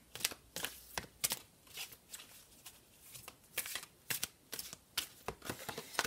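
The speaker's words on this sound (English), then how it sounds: "I'm actually just going to shuffle the cards and see if there's something else that needs to come out" Oracle cards are shuffled close up in irregular bursts of crisp riffling and slapping, some quick clusters and some single flicks, with quiet pauses between them and no voices.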